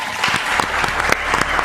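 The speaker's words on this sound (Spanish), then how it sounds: "Un aplauso." An audience gives applause for Argentina's president Javier Milei, loud close clapping with distinct individual hand claps standing out over the dense crowd.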